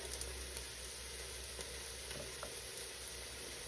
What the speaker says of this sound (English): Keep stirring those onions while you're doing this.